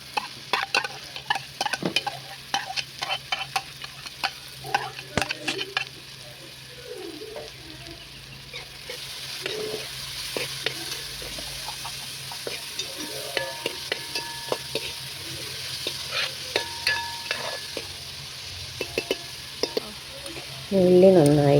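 Chopped shallots sizzle in coconut oil with curry leaves in an uruli, a steady crackling fry punctuated by frequent scraping stirs, with a louder burst of sizzling at the very end.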